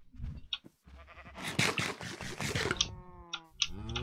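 Sheep bleating in the Minecraft video game, several short wavering bleats in a row, clear and close with little else around them.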